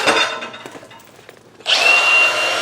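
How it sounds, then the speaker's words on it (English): An angle grinder cutting into a homemade metal front bumper, harsh scraping bursts, then a sustained high-pitched whine as the disc bites, loud and close with no talking. "Just have the grinder."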